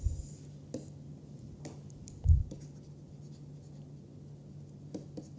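Faint chalk or marker taps and scratches on a board during a topology lecture, soft intermittent strokes with one louder knock over a low room hum, no talking.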